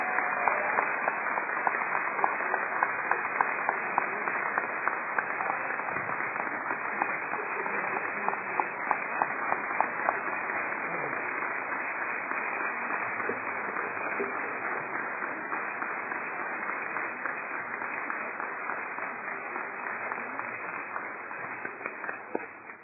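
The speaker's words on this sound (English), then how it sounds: "Let's please get a huge round of applause for Professor Luc Montagnier." An event audience applauds Professor Luc Montagnier at an inaugural science and health center gathering, dense continuous clapping sustained for a long stretch, slightly muffled and thin, slowly tapering near the end.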